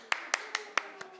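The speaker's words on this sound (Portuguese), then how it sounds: "Palmas para o meu agente." Applause for an agent at a small gathering comes as five or six separate sharp hand claps in an even rhythm, close and clear, with the last one softer.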